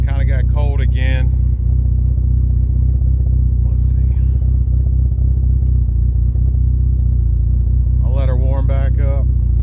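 A cold engine in a 420A project car idles steadily after being fired back up, a constant low rumble under brief bursts of nearby talk at the start and end.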